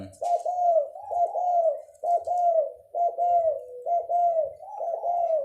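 A spotted dove coos repeatedly in a steady rhythm, low hooting calls close up, with faint rustling noise in the background.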